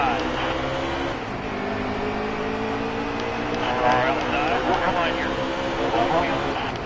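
Stock cars racing on a restart at Charlotte, a dense, continuous roar of many engines droning together at a distance, overlapped by a commentator talking throughout.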